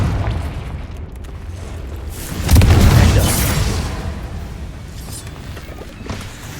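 The Confringo explosive spell in Hogwarts Legacy sets off a booming blast that swells into a roaring burst and then fades into a rumbling tail, over a steady game ambience.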